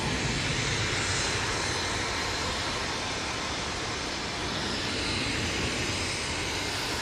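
EasyJet airliner jet engines at Manchester Airport, a loud, broad, steady roar that fills the whole clip, close by and without talk.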